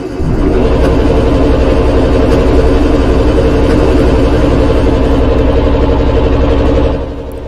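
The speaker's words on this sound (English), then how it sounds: "I'm gonna get the engine started first. So throttle up all the way" Chemical tanker vehicle engine in Stormworks running at full throttle, a loud steady low droning roar that holds evenly for several seconds before easing off near the end, with no talking over it.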